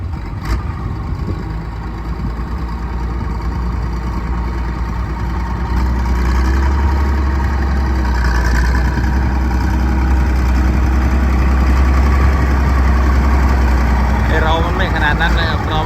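Road roller engine running steadily with a deep low rumble throughout, growing slightly louder and heavier midway, with faint background noise and no clear talk.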